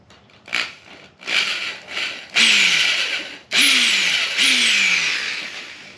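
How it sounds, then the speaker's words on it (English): Power drill boring out stuck bolts with a drill bit on a 2021 Yamaha R1 motorcycle during a battery install, several close, loud whirring bursts that spin up and wind down, each stopping abruptly, with no talk. "Drill out these with a drill bit"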